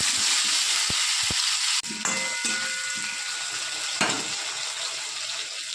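Potato, pumpkin and green chili with a little salt sizzle steadily in oil left from frying hilsa fish, a loud, close hiss broken by a couple of sharp clanks of a utensil against the pan.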